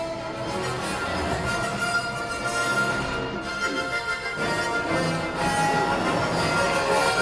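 A steady loud train rumble with rolling wheel noise and metallic tones, continuous throughout with no talking, heard inside the Millennium Falcon: Smugglers Run simulator ride at Disneyland Park, Anaheim, California.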